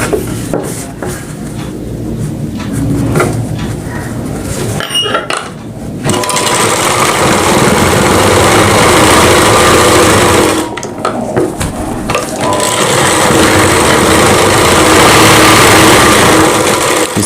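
A sewing machine stitches a Rajputi kanchali sleeve onto fabric in long, loud, steady runs of rapid mechanical whirring, broken by two short pauses, up close with no voices.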